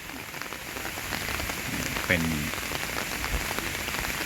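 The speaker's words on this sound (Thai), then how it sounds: "ตอนนี้ฝนก็มาเลยครับ" Steady rain patters on surfaces at Wat Pa Dong Nong Tan temple in Udon Thani, near the Pu Ket Kaew statue, a continuous close wash of drops, with a voice briefly speaking over it.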